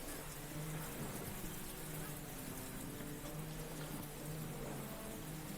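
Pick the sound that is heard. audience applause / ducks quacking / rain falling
rain falling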